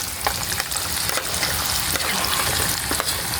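Chop suey vegetables fry in a hot pan, a steady loud sizzle with scraping stir strokes and clinks from a utensil recurring every half second or so, with no voices over it.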